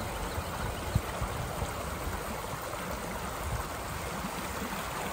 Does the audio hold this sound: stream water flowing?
yes